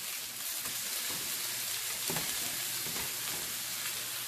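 Burger patties sizzle on a hot grill in a steady, crackling hiss that stays close and even throughout.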